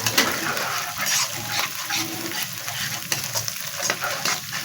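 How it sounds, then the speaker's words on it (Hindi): Ginger garlic paste frying in hot oil in a pan, a steady close sizzle with scraping and stirring throughout, no talk. "तो अच्छी तरह से फ्राई कर लेंगे।"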